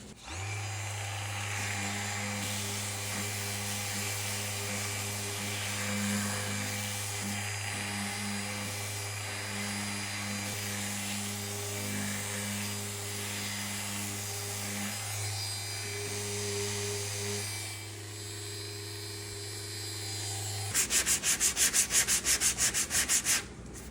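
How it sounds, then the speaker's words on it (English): An electric sander works wood filler on a nightstand during a furniture makeover, a steady droning whir held near and constant for about twenty seconds, ending in a brief louder, harsher burst. "continue to shape it with my sander"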